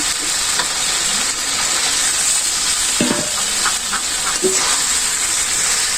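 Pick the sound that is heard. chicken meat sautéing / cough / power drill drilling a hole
chicken meat sautéing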